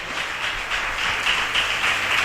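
Audience applause, a steady wash of many hands clapping at moderate distance, sustained without pause and without any voices over it.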